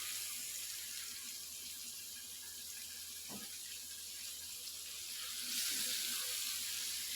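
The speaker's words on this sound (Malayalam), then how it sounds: "നത്തോലിയും കൂടെ വറുത്ത് എടുക്കുവാണ്" Small anchovies fry in a pan in a village home kitchen, giving a steady, fairly quiet hiss and sizzle that swells slightly near the end, with no voices.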